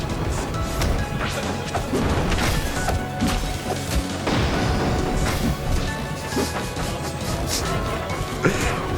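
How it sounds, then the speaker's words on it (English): Smash attacks land in the platform fighting game Rivals of Aether during a doubles grand final. Loud, rapid crashes and whacks pile up over several seconds amid swooshes and a busy, noisy mix. "there's just smash attacks flying across the stage"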